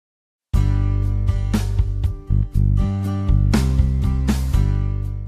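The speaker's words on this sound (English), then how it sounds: "Over here, I've got an instance of Strummed Acoustic 2 by Native Instruments." Strummed acoustic guitar patterns from the Native Instruments Strummed Acoustic 2 sample instrument, loud and close, with chord strums and articulation changes shifting every second or so.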